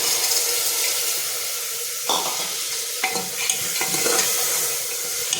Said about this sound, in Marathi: त्यात आता आपण चणे ओतणार आहोत